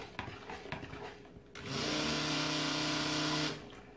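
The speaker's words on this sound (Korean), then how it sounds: "블렌더로 갈아줍니다." A blender grinds ingredients for a blue lavender camellia cold-process soap, starting abruptly after some light handling noises and running as a steady loud whir for about two seconds before stopping.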